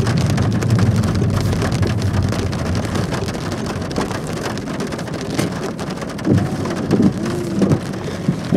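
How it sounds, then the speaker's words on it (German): Heavy rain drums steadily on a surface during a thunderstorm, with low rumbles of thunder rolling in the background, loud and continuous throughout with no voices. "Das Gewitter ist sehr, sehr unstrukturiert."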